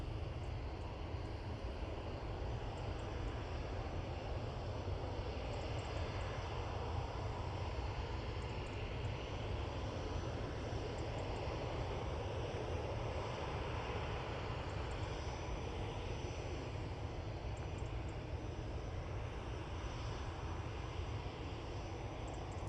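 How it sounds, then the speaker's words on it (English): A Juneyao Airlines jet in Peony livery, arriving from Shanghai at Manchester Airport, makes a steady, distant, moderately faint engine rumble that holds evenly throughout. "it's the beautiful Junyao coming in from Shanghai."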